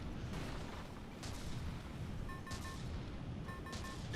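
Ammunition exploding aboard a battleship in a video game comes through as a continuous low, rumbling roar of blasts and bursts, with faint electronic tones layered in and no talking.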